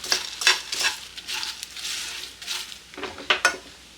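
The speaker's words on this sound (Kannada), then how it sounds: "ಲೋ ಫ್ಲೇಮಲ್ಲಿ ಇಟ್ಕೊಂಡೆ ಈ ರೀತಿ ಮಿಕ್ಸ್ ಮಾಡ್ತಾ ಬರೋಣ." A spoon stirs a puffed rice masala snack (mandakki chivda) in a pan over a low flame, making repeated soft scraping and rustling strokes at an uneven rhythm, close and fairly quiet with a light sizzle and no talk.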